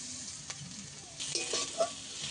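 Ginger, garlic and onion frying in a pan, a soft continuous sizzle with a few scraping stirs of a utensil, quiet and close, with no talking.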